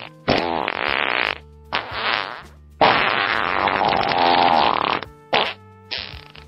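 A string of loud, wet, sputtering fart sounds from a comedy film, coming in several long bursts with short gaps between them, alone with no talking.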